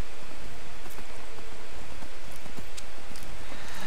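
Horse hooves clip-clop on the ground in the Skyrim video game, a steady rhythmic series of soft hoof falls over a constant wash of ambient noise, with no voice present.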